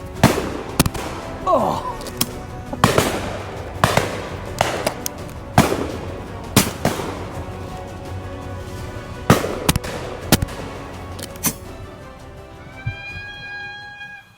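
Shotguns fire at a driven pheasant shoot on a Scottish estate: a series of loud, sharp reports at irregular intervals, with a brief exclamation and a thin whistling tone near the end.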